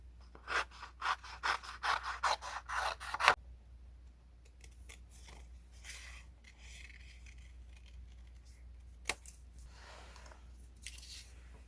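Paper sewing pattern pieces for a puppy plush keychain being cut out with scissors, a quick run of close, rhythmic snips, then quieter rustling and a few isolated cuts.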